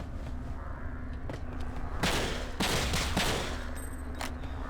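Pistol shots in the video game Breakdown: a few sharp, fairly loud cracks at uneven intervals, with two close together and a last one after a short pause, over a steady low background hum.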